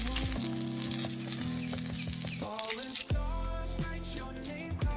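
Mirik fish fry in oil over high heat with a bright, continuous sizzle. Strong sustained tonal hums run underneath and shift partway through, and no voice is heard.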